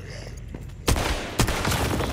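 Two sharp pistol shots from the video game Once Human, fired at a zombie, cracking loud and close about half a second apart over a low ambient game hum.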